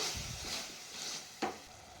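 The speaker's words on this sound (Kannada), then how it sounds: "ಹಾಕ್ಕೊಂಡು ನೀಟಾಗಿ ಹಸಿ ವಾಸನೆ ಹೋಗೋ ತನಕ ಫ್ರೈ ಮಾಡ್ಕೊಬೇಕು" Ground masala frying in oil in a pan, a soft steady sizzle with light stirring scrapes and one brief clink, quiet and close with no talking.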